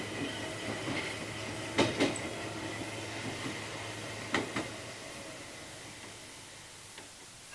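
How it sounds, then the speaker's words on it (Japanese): Train rattle sound effect for a Noh-style musical stage reading of Night on the Galactic Railroad, giving a small train's steady rolling hum with a few sharp clacks and knocks spaced through it, moderate and unaccompanied by voices. "ふと気がついてみると、さっきからごとごとごとごと、僕が乗る小さな列車は"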